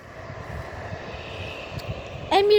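An airplane landing or taking off at a busy airport produces a steady, moderately loud engine drone throughout, ending in a short, sharp electronic tone.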